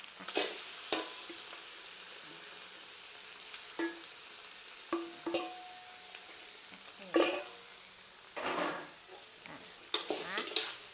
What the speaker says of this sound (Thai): คราวนี้เราก็จะทำการผัดนะ ผัดให้หมูกับน้ำพริกนะ ให้เขาสุกอ่ะนะ